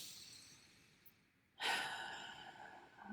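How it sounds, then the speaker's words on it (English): A deep breath during a tapping exercise: a long, close airy exhale sweeps in halfway through after a quiet inhale, loud and breathy, then trails off slowly into soft room noise. "So take a few breaths"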